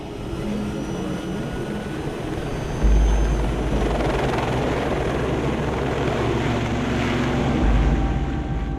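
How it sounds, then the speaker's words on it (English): Helicopter on a long flight over open water out to Perdido, a deep-water offshore oil platform, a steady loud rotor drone with low engine rumble and wind, no talk. "Perdido is a very long flight for a helicopter"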